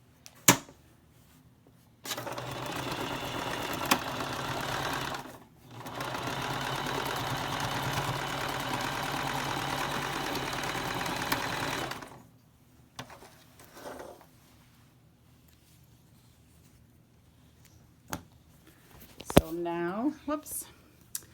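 A sewing machine stitches a wide French seam on a fabric bag corner, running steadily in two long bursts with a brief pause between, then falling quiet before a few faint handling noises at the end.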